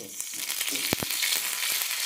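Tempering spices and curry leaves sizzle and crackle in hot oil, a steady close frying hiss with a few sharp pops and stirring clicks.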